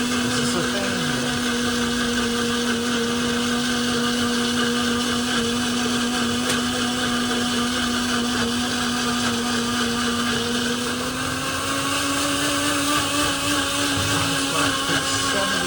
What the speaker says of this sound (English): Now still blending.